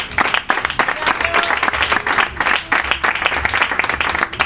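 A church congregation bursts into sustained, dense applause during a Spanish-language sermon, steady and loud clapping filling the space throughout with faint voices mixed in.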